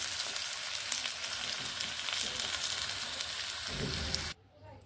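Potatoes sizzle and crackle as they fry in hot oil for a drumstick and fish curry, a steady close-up hiss that cuts off abruptly near the end.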